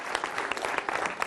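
A studio audience at a televised debate show claps in a dense, even burst of applause, brief and fairly close.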